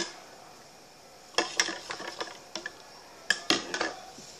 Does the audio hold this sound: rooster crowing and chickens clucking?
no